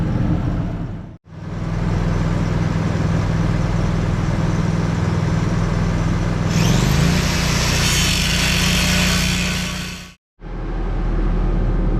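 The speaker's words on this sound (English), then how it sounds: "I think this time I'm gonna mark a line with the grinder right in here to kind of get me a straight line" An angle grinder marks a line on a steel Kelly bar from a SoilTek S35 drill, a loud close whine grinding steadily for about nine seconds, its pitch brightening midway, with short pauses at the start and end.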